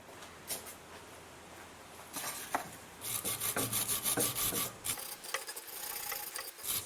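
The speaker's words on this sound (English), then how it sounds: "wire brush the area a little bit and give it a little clean" Wire brush scrubbing old corrosion near the propeller shaft coupling under a Mercedes CLK230, heard as close, uneven bursts of rasping strokes that grow denser and louder midway, with no talking.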